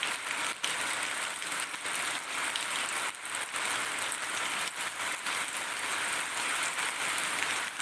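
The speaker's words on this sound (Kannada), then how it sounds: "ಬೆಳಿಗ್ಗೆ ಮಳೆ, ಒಂದು 4 ಗಂಟೆ ನಂತರ ಮಳೆ ಸ್ಟಾರ್ಟ್ ಆಗಿದೆ" Heavy rain pours down in a dense, continuous hiss with no break, loud and close, with brief heavier surges and occasional sharper patters.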